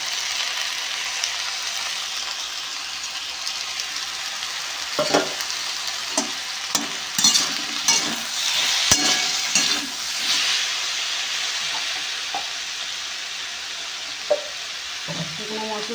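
Spiced vegetables and small fish are stir-fried in a wok over a continuous loud sizzle, with bursts of hissing and scraping as the mixture is stirred, close up and without talk.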